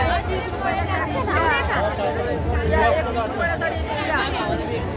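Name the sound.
crowd chatter at a busy festival stall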